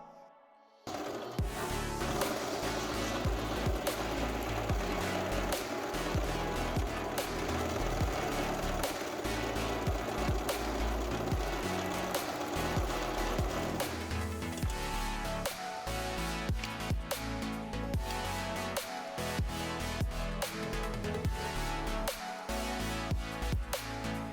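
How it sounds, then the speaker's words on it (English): A Brother 1034D serger runs a continuous test stitch, a steady, dense, fast mechanical whirring and clatter that starts abruptly and holds loud and close for over twenty seconds, alone without talk. "Your machine at this point should run smoothly, and it should sound smooth as well."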